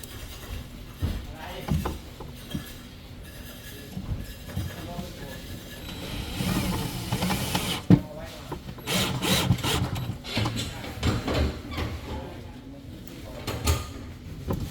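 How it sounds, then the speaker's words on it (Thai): A power screwdriver drives screws into the hinge of a WD801 dressing table in short whirring bursts, while someone talks throughout. "เราก็จะยิงข้างบนไว้ก่อนนะคะหนึ่งตัวนะคะ แล้วก็ข้างล่างหนึ่งตัว ยิงสลับกันไว้แบบนี้นะคะ"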